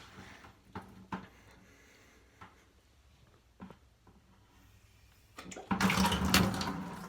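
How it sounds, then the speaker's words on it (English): Water from a toilet trickling and gurgling out through a siphon hose, with scattered knocks and handling noises before a louder rushing gush of flowing water near the end. "So I got some water to come out."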